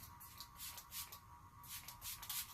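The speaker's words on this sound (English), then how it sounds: "we're just going to spray it on our hair and see how that goes" Hair spray hisses from an aerosol can in several short bursts, close and fairly soft, with brief pauses between pumps and no talking.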